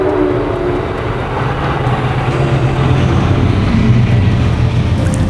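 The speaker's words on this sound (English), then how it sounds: "I live right by a train. You probably just heard that." Loud, sustained rumble of a train passing close by a home, a heavy rolling roar that stays strong and steady throughout.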